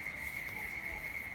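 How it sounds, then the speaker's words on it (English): An unbroken high trill of crickets hums through the background outdoors in the evening, steady and fairly quiet, with no other sounds on top. "Cricketing in the background."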